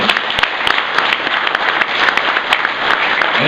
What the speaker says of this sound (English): please, round of applause for Inaugural for sponsoring this event here